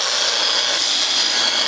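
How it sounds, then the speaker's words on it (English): Hand sanding of a Mistral Superlight windsurfing board with 120 grit sandpaper, a steady close hiss of abrasive rubbing that fills the short stretch without a break. "some hand sanding"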